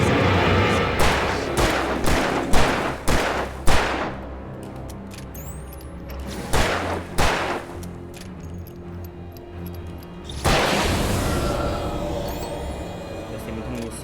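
Gunfire in the video game Alan Wake Remastered, a rapid series of loud close shots, then a pause, a second cluster of shots, and a long blast-like roar near the end.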